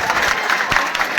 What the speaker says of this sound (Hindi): अरे तो ताली बजाइए महाराज।